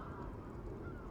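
Greylag geese honking from a mixed waterfowl flock, a dense continuous wash of overlapping calls with low rumbling background noise, fairly distant and steady throughout.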